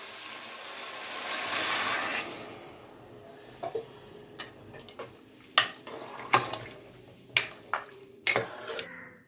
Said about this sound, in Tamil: இப்போ இது வேகிறதுக்கு தண்ணி ஊற்றிக்கலாம்.